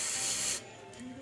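Cleaner sprays from a can onto a rocker-type electrical switch held over a towel, giving one loud hissing burst of about half a second before it cuts off into quiet room tone.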